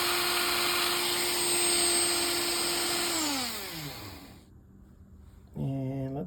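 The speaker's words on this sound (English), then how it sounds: "I'm going to go ahead and use the cutoff wheel for this." A power tool with a cutoff wheel, used to deburr a metal part during repair of a Johnson Sprite 200 fishing reel, whines steadily, then spins down and stops, and a short motor burst follows.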